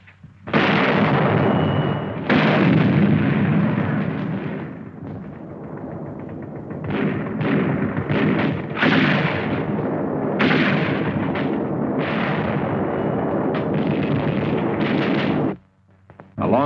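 Artillery fire from Chinese infantry and artillery units clearing enemy positions along the Stilwell Road in Burma in 1945: repeated heavy booms and sustained rumbling barrages, loud and dense, with brief lulls between blasts.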